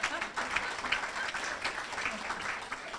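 Applause from a luncheon audience at an awards event, steady moderate clapping from many hands filling the room without pause, heard from a distance.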